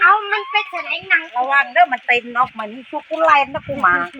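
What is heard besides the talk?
No everyday noises stand out.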